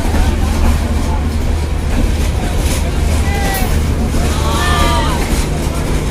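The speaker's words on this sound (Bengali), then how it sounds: "দ্রুতদান এক্সপ্রেস ঢাকা বিমানবন্দর রেল স্টেশন রাত নয়টা তেইশ মিনিটে ছেড়ে গেল" An express train leaves a railway station at night with a continuous heavy rumble and rolling noise, squealing wheel tones rising over it, while people talk nearby.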